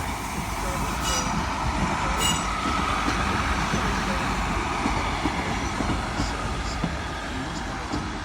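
Northern class 150 diesel unit 150.268 pulls out of Doncaster station on the 11:35 service to Sheffield, a steady, close, loud rumble of engine and wheels that holds for the whole stretch.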